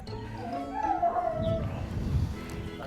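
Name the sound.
Doberman dog howling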